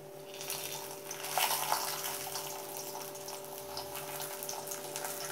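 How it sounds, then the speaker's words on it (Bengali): Banana paratha frying in oil on a tawa over medium flame, giving a steady, close, continuous sizzle with a brief louder burst near the start and a constant low hum underneath. "আমি পরোটাটা মিডিয়াম ফ্লেমে ভাজব"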